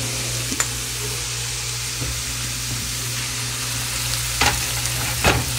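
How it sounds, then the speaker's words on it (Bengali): Onion with turmeric sizzles steadily in a pan, a continuous close frying hiss with a few brief scrapes and knocks from stirring, no voices. "পেঁয়াজটাকে আরেকটু বাদামি করে ভেজে নেব।"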